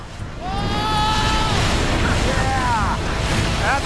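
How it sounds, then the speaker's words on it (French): Ocean waves crash around a duct tape canoe in a loud, continuous roar with wind noise on the microphone, while voices shout over the surf. "Et on pagaie droit sur les vagues, qui font au moins 1 mètre de plus que notre bateau."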